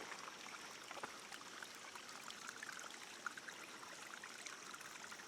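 Hazel Creek, a stream near Swain, North Carolina, flows in a steady, soft trickle and babble, heard a little way off with no voices over it.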